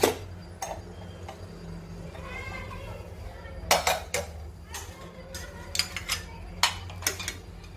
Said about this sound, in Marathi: आता कुकर ओपन करूयात।